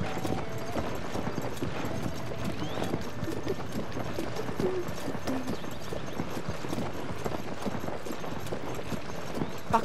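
Steady clip-clop of a horse's hooves, the rider's horse Fidèle in Zelda Tears of the Kingdom, trotting in an even rhythm for the whole stretch with soft game ambience underneath and no voices.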